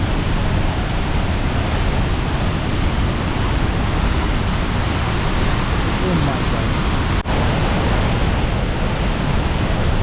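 A fast-flowing waterfall in the rain roars as a steady, dense rush of water, loud and constant throughout, with a brief dropout near the end.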